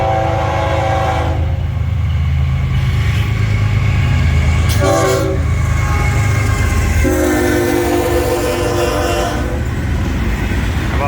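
Florida East Coast Railway northbound freight train rolling loudly through a crossing, continuous heavy rumble and rail noise with several long horn blasts sounding in separate bursts.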